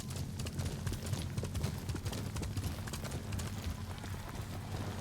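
Horse hooves galloping in Ghost of Tsushima, a rapid, steady clip-clop of hoofbeats running continuously at close range without pause.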